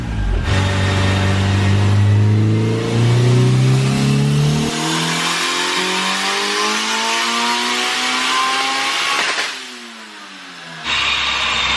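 A 2.5-litre naturally aspirated K-series hatchback engine revs hard on a dyno, pitch climbing steadily through a long loud pull before cutting off sharply, then a brief idle and a quick blip near the end.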